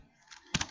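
A few computer keyboard keypresses for a copy shortcut, with a soft click followed by a quick cluster of sharper taps, close and fairly quiet with no talking.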